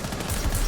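Gunfire in Rainbow Six Siege, a short loud burst of dense rapid shots filling the moment, with no clear voice over it.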